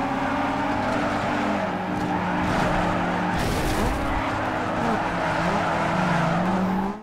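A car drifts in Need for Speed Underground 2, with a loud, sustained tire squeal riding over a steady engine roar that never lets up.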